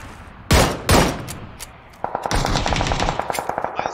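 Gunfire in an online shooter video game: two heavy single shots, then after a pause a fast, loud burst of automatic fire with rapid, evenly spaced reports.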